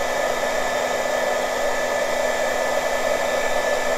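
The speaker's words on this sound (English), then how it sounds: "your heat gun takes a little while to" A heat gun runs continuously as it warms up for embossing craft dangles, a steady whooshing blow with a constant electric motor hum, close and unchanging.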